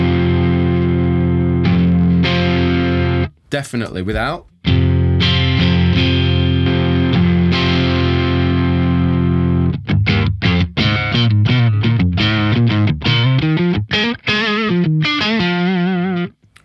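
Electric guitar played through a Tube Screamer overdrive pedal with every knob set at noon, giving a thick, loud, driven tone: long sustained chords, then a burst of fast, choppy riffing, with a few spoken words in a brief gap.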